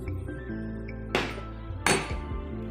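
A spoon clinks twice against a pan while stirring milk and a spoonful of flour for a lasagne sauce, two bright separate knocks over a low, steady kitchen background.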